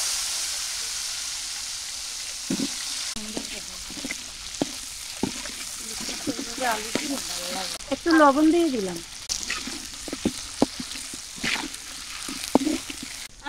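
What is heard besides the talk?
potatoes frying in oil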